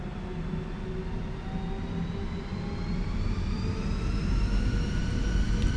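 Airbus A320 CFM engines in Microsoft Flight Simulator 2020 spool up toward 50% thrust, a rising turbine whine with climbing tonal harmonics over a steady low roar that grows louder.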